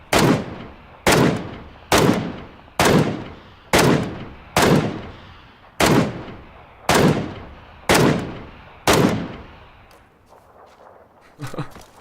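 Gunfire in the video game PUBG: about nine loud, evenly spaced single shots roughly a second apart, each with a sharp crack and a trailing echo, followed by quieter, fainter activity.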